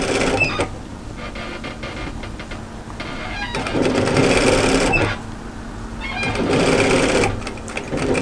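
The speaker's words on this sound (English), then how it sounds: "I'm going to sew a line of stitches parallel to my first line of stitches" Domestic sewing machine stitching a line parallel to a hem on a knit dress, whirring in three rapid bursts of motor and needle chatter, close and clear, separated by quieter pauses.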